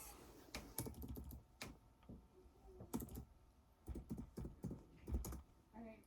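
Password being typed on a computer keyboard, heard as irregular bursts of close, crisp key clicks with brief pauses between runs, no talking.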